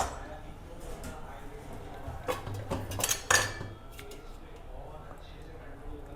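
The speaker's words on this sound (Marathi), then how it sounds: "कढई कोणती ठेवायची? ती दुसरी लोखंडी." An iron kadhai and other kitchen utensils being moved and set down, with scattered metallic clinks and clatters under ongoing conversation in a home kitchen.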